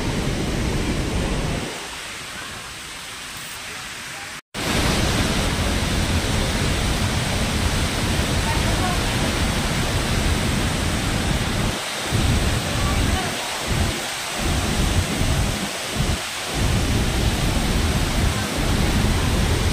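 Niagara Falls roars as a loud, continuous wall of crashing water heard from a tunnel behind the falls, briefly muffled for a moment before returning full force.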